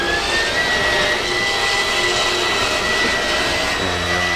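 A 2022 Thor A.C.E. 30.4 RV hums steadily with its engine running, a loud continuous drone with a whining tone as the slide-out extends, and a lower motor note joins near the end.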